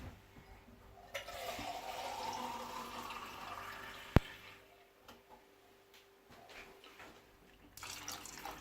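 Water poured from an empty can into a pan of bolognese sauce, a soft rushing pour lasting a few seconds, followed by a sharp click and faint kitchen clatter, quiet and close.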